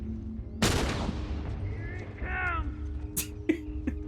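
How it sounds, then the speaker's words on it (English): Rifle gunshots from The Last of Us video game, a loud sharp blast followed by a few more fainter cracks and game effects, heard alongside other game audio. "Oh, look, Ellie's using her rifle."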